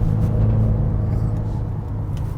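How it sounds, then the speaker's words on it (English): A 2021 Mercedes GLB35 with 4MATIC all-wheel drive and 302 hp rumbles loudly from inside the cabin as it downshifts through a tight corner, its low engine drone holding steady and close throughout. "Listen to those downshifts."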